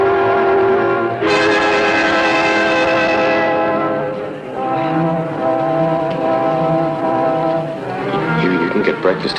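A train rolls along with a loud, sustained horn blast near the start that fades after a few seconds, leaving the rumble of the moving carriages. It comes from a 1953 film set around a railway journey.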